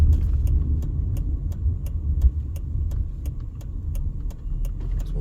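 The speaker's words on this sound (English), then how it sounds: "we'll wait for this truck." Low engine rumble of a truck moving along a street in the Historic Westside of Las Vegas, steady throughout with faint regular ticking over the top.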